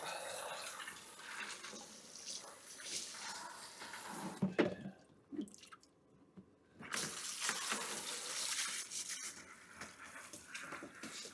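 Running water from a tap rinses a plastic homebrew beer fermenter lid, a steady splashing gush near the microphone that briefly stops mid-way before resuming just as strongly.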